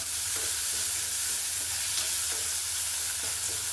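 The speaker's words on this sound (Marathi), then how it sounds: "हे आपण कांदा थोडासा परतून घेतला" Chopped onion and curry leaves sauté in a pan over low heat, giving a steady, close sizzle and crackle with faint stirring ticks throughout and no voice.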